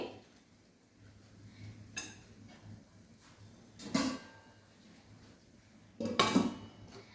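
A lid is handled on a cooking pot holding modak dough, giving a few separate metallic clanks and scrapes. The two loudest come near the middle and toward the end, with quiet room sound between them and no speech.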